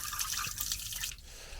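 Grey water draining from a camper van's tank beside the exhaust, a steady splashing trickle with drips, fairly close and consistent before easing slightly near the end.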